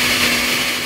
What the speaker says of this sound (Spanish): vamos a poner los tomates, la cebolla y los chiles en la licuadora